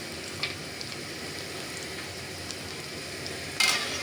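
Onions frying in a pan, browning with garlic and ginger about to go in for a rice and curry dish: a dense, steady sizzle throughout, with small crackles and a brief louder spit near the end.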